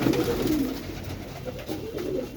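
Pigeons coo softly and continuously from a nearby roost, low rounded calls repeating over faint background noise with no one speaking.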